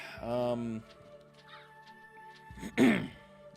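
A bird enemy in Castlevania: Symphony of the Night gives two harsh, squawking caws, one near the start and one near the end, with quiet game sounds in the gap between them.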